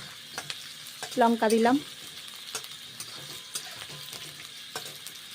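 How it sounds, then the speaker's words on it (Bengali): Onions frying in hot oil in a pan: a steady close sizzle with scattered clicks of stirring, while a voice briefly speaks over it near the start. "তেল গরম হয়ে গেছে, তারপর পেঁয়াজগুলো ভেজে নিচ্ছি।"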